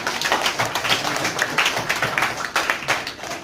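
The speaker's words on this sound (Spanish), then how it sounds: "vamos a darles con un aplauso la bienvenida a sus mamás" Children clapping together in a classroom to welcome their mothers, a steady, lively patter of many small hands with no pauses.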